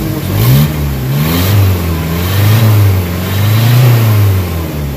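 A Nissan Vanette engine revs up and down several times in waves as the pedal is pressed, loud and close, with a deep rumbling tone rising and falling.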